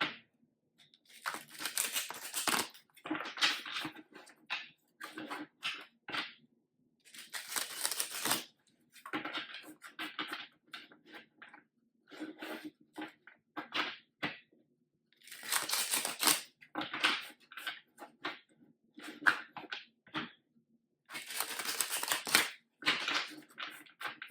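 Bursts of crisp riffling and snapping as a deck of tarot cards is shuffled, repeated several times with short pauses between, close and fairly loud, no talking.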